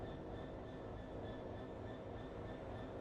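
A DB Class 66 diesel locomotive runs in a train simulator, with a steady rumbling roll and faint high squeal tones. The sound is even and continuous, close, and quiet overall.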